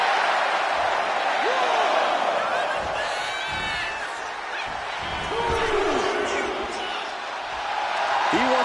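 A wrestling crowd roars in the WWE 2K video game, a dense sustained arena din with scattered whistles and a few thuds, under a commentator's ongoing talk.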